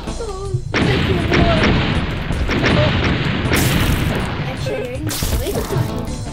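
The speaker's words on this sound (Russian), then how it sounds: "взрывы такие, как, например, ракеты и всякое такое" Loud Roblox video game explosions and booming blasts, such as rockets, dense and continuous, with a couple of sharp bursts and a few brief tonal effects.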